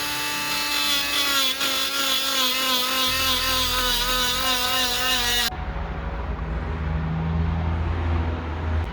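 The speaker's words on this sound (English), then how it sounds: "I'm using a Dremel with one of these little crappy sand wheels on here" A Dremel rotary tool fitted with a small sanding wheel whines steadily against a metal turbo housing. Its pitch wavers as the wheel slips and presses, then cuts to a rougher, lower grinding hum partway through. Loud and close, with no talk.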